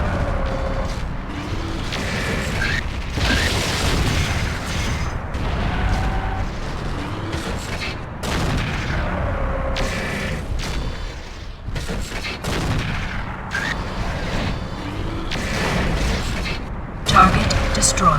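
Explosions from a destroyed target in the mech combat game MechWarrior 4: Vengeance, heavy booming blasts and rumbling bursts repeating through the whole stretch over a dense, continuous battle din with mechanical clatter.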